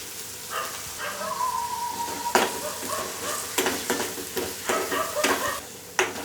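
Reddened onions fry with a green ginger, garlic and coriander paste for a potato bhaji, a close sizzle with repeated scraping stirs and clinks at an uneven pace, and a faint voice in the background.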